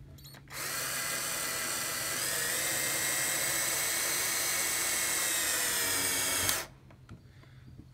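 A power drill drives a screw into a board while building a birdhouse from old furniture, a loud steady whir lasting about six seconds, rising slightly in pitch, then stopping abruptly.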